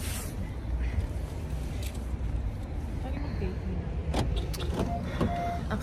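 A car idles and begins to move off in a parking area outside a Korean BBQ and hotpot restaurant in Kearny, NJ, with a steady low engine hum and faint clicks, under a person talking.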